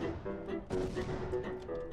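Rockets launching in the Yellow Face DLC video game, a rapid series of booming blasts and whooshes over a dense rumbling background, loud and close.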